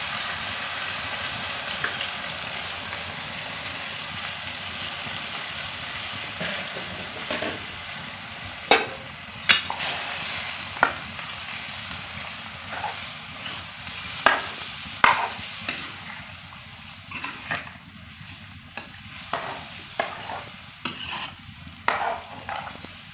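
Meat fries in hot oil in a wok with a steady broad sizzle, broken by repeated sharp scrapes and clacks of stirring that grow busier over time.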